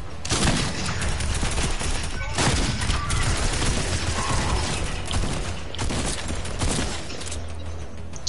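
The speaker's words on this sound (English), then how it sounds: "They're shooting at something." Gunfire from guards in the video game Fortnite, a dense, continuous crackle of shots and mechanical clatter running throughout, loud and close, with no pauses.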